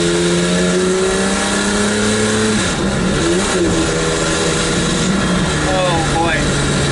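A Maserati MC12 driven gently at low speed, its engine note climbing and dropping through the revs with rising and falling tones and shifts, loud and close from inside the car, while someone talks over it.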